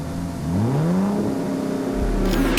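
A Bugatti Veyron's engine revs up loud and close, its pitch climbing steadily before settling into a sustained high roar, then a deep low thump near the end with a sharp burst of noise.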